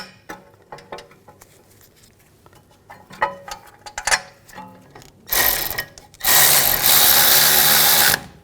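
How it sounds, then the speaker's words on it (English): Ratcheting and clicking metal noises come from bolts being run in on a rear brake caliper bracket of a 2007–2013 BMW 328i. They build up to a loud, sustained whirring burst of a power tool near the end, with no talk. "Now I'll tighten these down."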